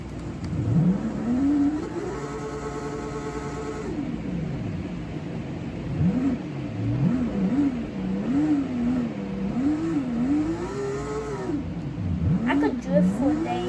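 A car engine in a racing video game revs repeatedly while drifting, pitch climbing and dropping in rapid waves with brief steady holds, loud and close throughout.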